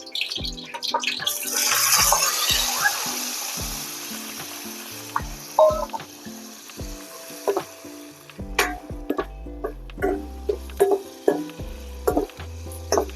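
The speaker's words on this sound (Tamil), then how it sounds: "எண்ணெய் கொதிச்சிருச்சு. லைட்டாக கொதிச்சுருவோம். நம்ம இந்த வெட்டி வச்சிருக்க சின்ன வெங்காயத்தை அதில் சேர்த்துவோம்." Small shallots hitting hot oil in a pan for Pallipalayam chicken, a bright sizzle that fades into scattered crackles and pops, close up with no speech.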